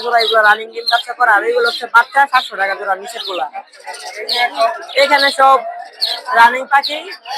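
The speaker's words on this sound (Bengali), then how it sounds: "বিভিন্ন দামের পাখি আছে" At a livestock and bird market, caged birds such as Java sparrows chirp in quick, bright, overlapping bursts close by, mixed with people talking.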